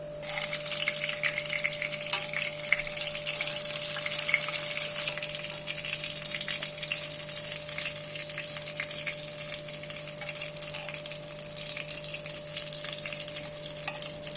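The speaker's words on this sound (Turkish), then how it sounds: "Önlü arkalı güzelce kızartıyorum." Steady, dense sizzling of paçanga börek pastries frying in hot oil, loud and continuous throughout with no voices.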